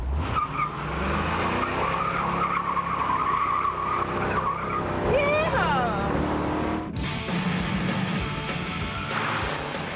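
Cars racing along a street, with engines roaring and tires skidding and squealing loudly throughout, a sharp rising screech midway, and voices faintly underneath.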